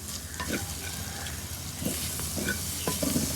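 Dry spice masala sizzling as it is stirred in a kadhai for chicken crunchy paratha filling, a continuous hiss with soft scraping strokes of the spoon, close and even, with no speech.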